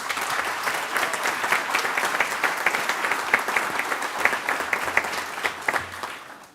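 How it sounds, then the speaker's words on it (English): A room of attendees at a county commission meeting claps for long-serving employees, producing a loud, continuous wash of applause with scattered sharper claps throughout. "Let's give them a round of applause, please."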